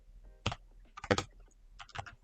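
Bursts of computer keyboard typing as HTML code is entered for a Dino game, with three short clusters of close, crisp keystrokes separated by brief pauses and no talking.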